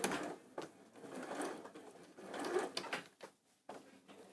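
A domestic sewing machine stitches fabric for a children's jumpsuit in a series of short mechanical whirring bursts with brief pauses between them, fairly faint and close.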